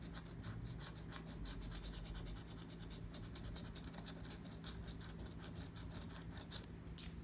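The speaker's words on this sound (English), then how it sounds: "let's scratch the numbers first" Coin-style scratching on a lottery scratch ticket: a steady, close rasp of repeated short strokes running continuously without pause, with no talking over it.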